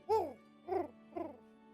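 A person's voice imitates an owl, giving three separate hoots in a row, each a short rising-and-falling call spaced about half a second apart, close and clear over a faint steady hum.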